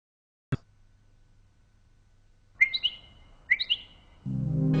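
Two short bursts of bird chirping, each a quick run of bright tweets, come after a sharp click and quiet room tone, clear and close, before a rumbling noise rises at the end.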